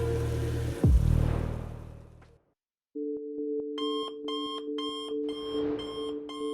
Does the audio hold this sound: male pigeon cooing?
no